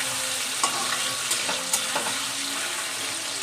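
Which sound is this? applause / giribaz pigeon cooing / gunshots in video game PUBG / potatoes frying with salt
potatoes frying with salt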